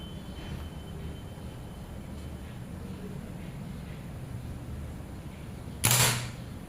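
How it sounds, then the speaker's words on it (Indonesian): A single sharp shot from a Predator Ataman Crane PCP air rifle, 2700 psi with a 30 cm seamless barrel, cracks out near the end, loud and close, over steady low outdoor background rumble. "Tembakan ketiga."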